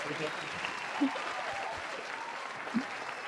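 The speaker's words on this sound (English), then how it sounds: "Yeah, it's round of applause." A crowd applauds steadily in a dense, even wash of clapping with voices mixed in, holding at a moderate level for a few seconds.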